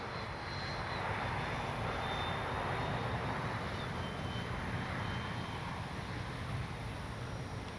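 An FMS Integral 80mm RC jet with flaps down makes a slow pass, its ducted-fan whine a steady, loud rushing roar that swells slightly and holds throughout, with no talking.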